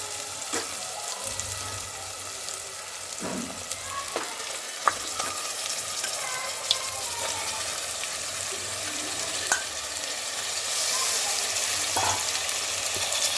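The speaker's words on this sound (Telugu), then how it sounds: "ఒక టమాటా ఉల్లిగడ్డలు అయితే మంచిగా గోలినాయండి. ఇప్పుడైతే మటన్ వేసేస్తా." Mutton sizzles steadily in hot oil with onions and tomatoes, a continuous crackling fry punctuated by occasional sharp pops and stirring clinks, growing slightly louder near the end.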